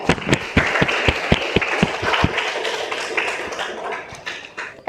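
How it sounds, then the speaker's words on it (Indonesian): Classroom applause for a student presentation group, with a burst of sharp individual claps early on settling into a steady wash of clapping from a small room of students. "Beri tepuk tangan dulu untuk kelompok 2."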